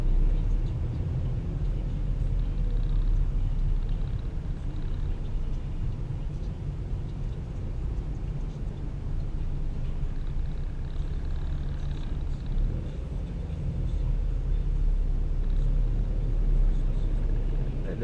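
Steady low engine rumble from inside a car idling in a slow traffic jam, a continuous droning hum with little change across the stretch.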